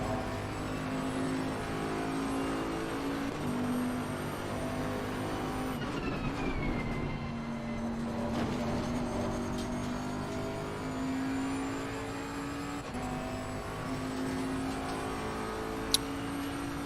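A race car climbs onto full throttle at Silverstone to begin a flying lap over the start-finish line, with a steady, loud engine note whose pitch rises and drops through gear changes, heard alone and close throughout.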